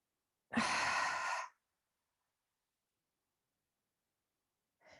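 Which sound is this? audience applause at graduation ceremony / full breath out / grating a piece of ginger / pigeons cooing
full breath out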